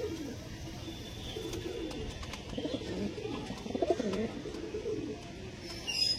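Pigeons coo softly and steadily at a pigeon sale, a low continuous murmur of several birds with occasional brighter calls, heard alone without talk.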